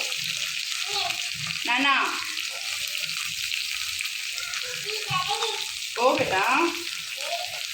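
Green chillies and plenty of onion fry with curry leaves in a pan for wheat upma, a bright continuous sizzle with stirring scrapes, close by, while people talk briefly over it.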